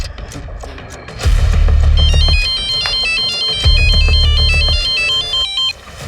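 A phone rings back as a number is dialed: two long buzzy rings with a pause between, loud and close, alone with no voices.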